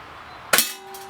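A BB rifle shot, from a Daisy Red Ryder or Crosman Marlin Cowboy, strikes a target with a single sharp metallic clang, followed by a brief ringing tone over quiet background.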